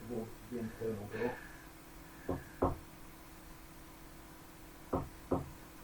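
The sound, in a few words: recorded phantom knocks on internal door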